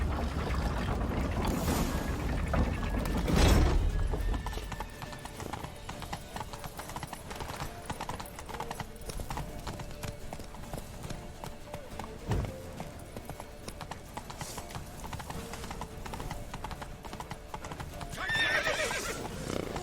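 Horses clip-clop at a gallop with loud whinnies and neighs, a steady drumming of hooves running throughout, game-like ambience behind, in The Witcher 3: Wild Hunt.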